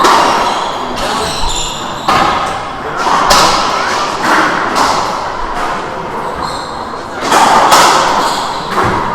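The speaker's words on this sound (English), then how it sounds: "Good shot down the line from Jenny Daza." Racquetball shots crack and thud against court walls in a fast women's doubles rally at a world championship, several sharp hits spaced irregularly in an echoing indoor court.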